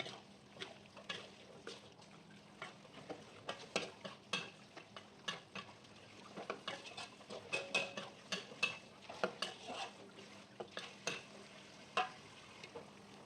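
Mussels stir-fried with seasoning in a pan: a long run of irregular clicking, scraping stirs over a faint steady sizzle, close and fairly quiet throughout.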